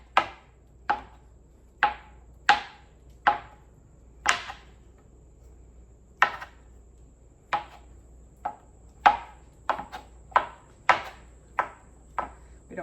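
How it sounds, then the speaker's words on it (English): Feta cheese being chopped and crumbled with a knife on a cutting board: crisp, evenly spaced thuds roughly every half to one second, close and clear over a quiet background, with no talking. "I'm going to kind of like chop up this feta or crumble it or something"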